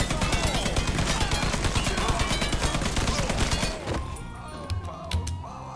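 Rapid automatic gunfire from Mafia III rattles in a dense, loud, steady stream for nearly four seconds, then breaks off into scattered impacts and lighter clatter.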